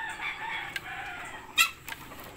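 Mahogany Rhode Island chickens in their coop give a sequence of clucks and squawks, moderately close, with one louder sharp call standing out near the end.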